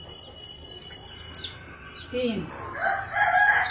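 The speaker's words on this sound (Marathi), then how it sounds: "हे बघा किती सुंदर पिल्लं काढले त्या कोंबडीने" Newly hatched desi chicks and their hen make scattered chirps and clucks nearby, growing busier toward the end, while someone speaks and counts over them.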